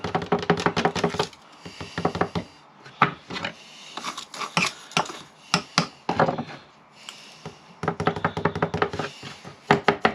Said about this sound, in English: I'm going to take my hot stand and transfer my hot stand into this stove